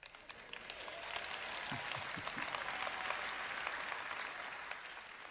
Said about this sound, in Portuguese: Não quero palmas tímidas aqui nesta manhã, eu quero aplausos que glorifiquem a Deus.